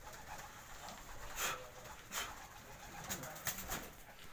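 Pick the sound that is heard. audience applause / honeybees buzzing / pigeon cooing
pigeon cooing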